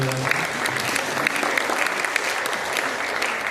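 An audience at a Hindi speech competition breaks into steady, dense applause, a continuous wash of clapping at even loudness from start to finish, with no break.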